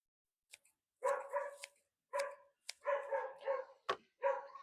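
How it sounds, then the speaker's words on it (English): A neighbor's dog barks repeatedly at a distance, about eight short, sharp barks in an uneven rhythm with brief pauses between, quiet and alone over silence. "I'm sorry about my neighbor's dog barking."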